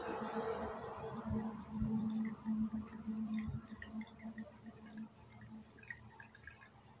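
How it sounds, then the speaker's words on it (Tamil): Water trickles and drips into a container during a volume-measuring experiment with an irregularly shaped object, a faint, close liquid patter that swells briefly and then thins out. "இதில் தண்ணி நிரப்பி பார்த்தீங்கன்னா நீங்கள் கண்டுபிடிக்க முடியும்"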